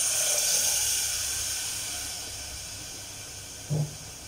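Coconut milk being poured into a hot pan while cooking coconut milk rice, with a steady, fairly loud sizzling hiss throughout and a brief louder splash-like burst near the end; no one speaks.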